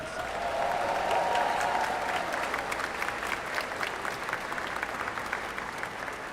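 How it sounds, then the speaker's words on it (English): A graduation crowd applauds the class of 2026 at The Oakridge School, a dense, sustained roar of many hands clapping evenly throughout, with faint voices mixed in. "Let's give them a round of applause, please."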